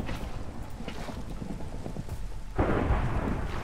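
Steady rain with low rumbling thunder throughout in Minecraft, swelling into a louder, brighter crash of thunder near the end.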